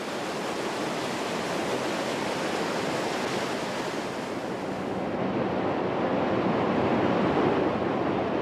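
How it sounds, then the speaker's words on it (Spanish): Rhine Falls at Neuhausen, a broad waterfall carrying about 600 cubic metres of water per second, gives a loud, steady roaring rush that swells slightly near the end, with no voices. "En una caída sin fin, las aguas arrastran un tremendo caudal de 600 metros cúbicos por segundo."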